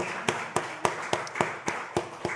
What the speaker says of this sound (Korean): 우리 감사의 박수 올려드립시다